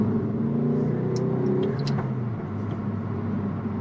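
A Ford Focus ST engine with a Revo tune revs hard and steadily with a deep rumble, sharp crackling pops bursting from the exhaust around the middle.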